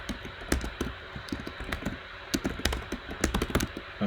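Rapid, uneven typing on a computer keyboard at an awkward angle, a dense run of close, crisp key clacks with short pauses, no voices.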